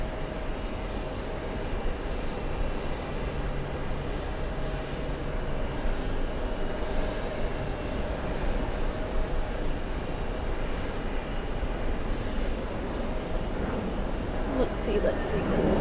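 Airplane engine noise at an airport near New York, a broad, steady roar that stays loud and constant, with a faint whine near the end.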